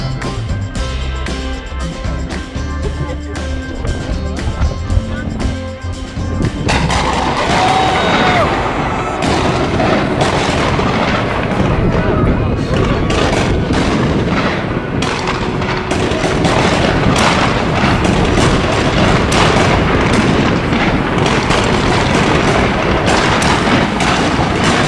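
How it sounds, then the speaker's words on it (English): Continuous barrage of booming fireworks explosions and crackles heard from the deck of the Queen Mary 2 cruise ship, loud and dense, starting after a quieter stretch and rolling on without pause. "we're up on deck for some sail away fireworks"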